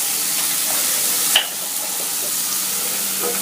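Three onions sizzling steadily in a pan with salt for tomato rice, a constant close frying hiss with one brief louder stir or scrape partway through and no talk.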